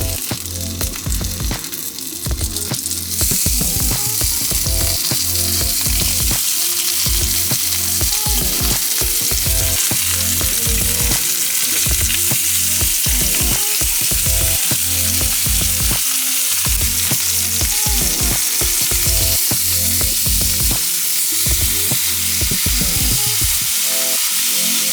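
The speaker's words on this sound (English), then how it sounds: "Now we're gonna try fry the Beyond Meat sausages." Beyond Meat plant-based sausages sizzle steadily in a hot pan, a loud, continuous crackle with occasional stirring clatter, no voices.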